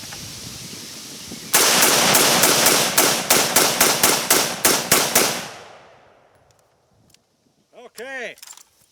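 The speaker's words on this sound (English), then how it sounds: "Now, I'm just gonna shoot, have fun" A Colt SP1 rifle fires about fourteen loud, sharp shots in quick succession, each with a short echo, followed by a few seconds of quiet and then a brief voice.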